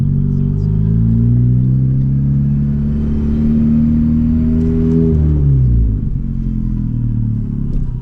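A Subaru engine revs hard and loud through a pull, its pitch climbing steadily before dropping sharply at a gear change and rising again, with no talk.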